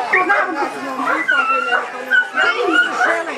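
A police dog at a scouting fair demonstration barks, yips and whimpers excitedly as a suspect swings a stick at it, with people's voices and crowd noise mixed in throughout.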